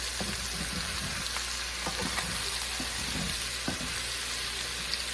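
Tofu and mushrooms frying in olive oil in a pan give a steady close sizzle with scattered small pops and crackles throughout.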